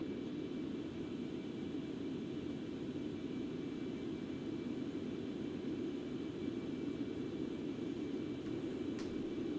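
Concorde engines at full throttle in the X-Plane 11 flight simulator, a steady, unbroken jet roar heard as a dense low rumble with a broad hiss on top, sustained evenly throughout.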